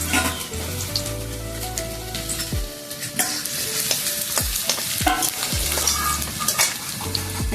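Potatoes going into hot oil in a pan for a Bengali vegetable ghonto: after a low steady hum, sharp splashing clatters burst into a busy, crackling sizzle with repeated stirring scrapes.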